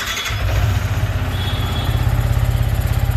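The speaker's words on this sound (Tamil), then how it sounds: "இப்போ நம்ம வண்டியை ஸ்டார்ட் பண்ண போகிறோம்." A Yamaha R15 V3 BS6 motorcycle engine starts up and settles into a steady, close idle with a rapid, even low-pitched thrum and rumble.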